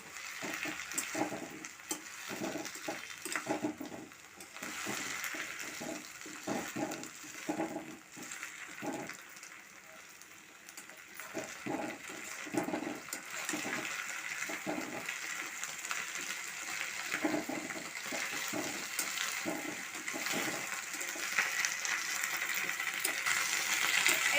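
Sliced medium onion and curry leaves frying lightly in a pan, a steady close sizzle with scattered crackles and occasional stirring clatter, without talk.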